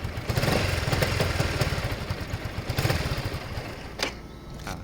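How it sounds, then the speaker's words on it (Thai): A Yamaha XMAX 300 scooter with stock exhaust idles steadily with a low, pulsing mechanical rumble, then settles slightly quieter toward the end. "เดี๋ยวฟังเสียงนะฮะ อันนี้เป็นท่อเดิมนะครับ"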